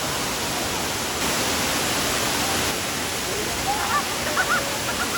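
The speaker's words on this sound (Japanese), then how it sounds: "この水量の滝を見られたのはラッキーでした" A high-volume waterfall on a trip in southern Thailand, a dense continuous roar of rushing water filling the scene at steady loudness, with faint brief chirps near the end.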